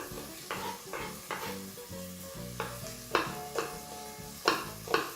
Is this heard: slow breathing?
no